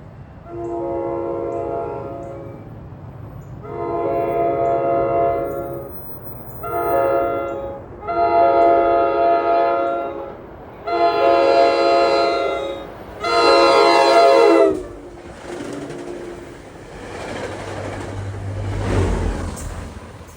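A New Jersey Transit diesel train sounds its horn in a series of loud, long blasts, the last one loudest, then rumbles past on the rails at close range on an autumn day.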